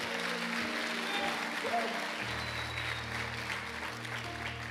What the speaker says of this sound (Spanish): si le va a aplaudir al Señor, apláudale de verdad